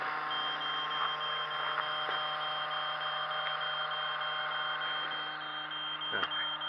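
Repeated short electronic beeps from a Traxxas LaTrax Alias drone's radio controller signalling a low battery, over a steady hum, with a few sharper clicks and blips, fairly faint and even.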